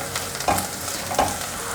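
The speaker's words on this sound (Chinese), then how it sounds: "锅内放入1汤匙的油，油热了，放入香菇爆香。" Shiitake mushrooms frying in a tablespoon of hot oil in a wok, with a close, even sizzle and two brief louder bursts as they are tossed.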